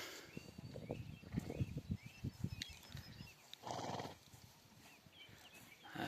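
A pregnant draft mare whinnies loudly up close, followed by a burst of quick hoof clopping, with faint birds chirping in the background.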